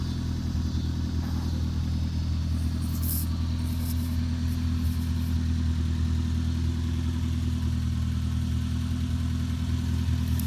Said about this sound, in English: You can see it makes a little bit of noise. There is a slight rust hole in the exhaust.